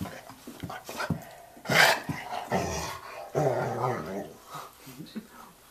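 A dog growls and whimpers close by in short grumbling bursts, under and between people's casual indoor chatter.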